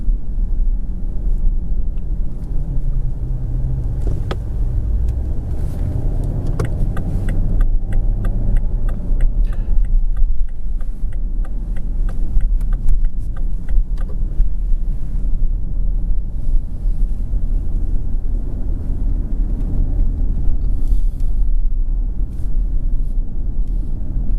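A car drives through Berlin city streets along the Kurfürstendamm area, giving a steady close engine and road rumble with wind noise over more than twenty seconds, with no talking.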